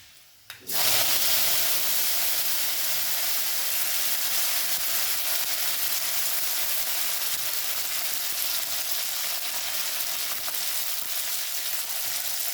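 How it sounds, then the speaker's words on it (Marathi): Coriander tadka dropped into hot oil with reddened garlic for a cluster bean (gavar) bhaji, bursting into a loud, close sizzle that then holds as a steady crackling hiss for several seconds. "कोथिंबीरची फोडणी, तडका देणार आहोत."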